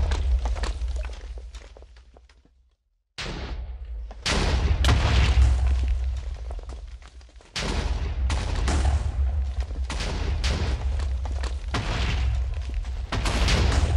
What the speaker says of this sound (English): That should shoot the mana over and should start the explosion there.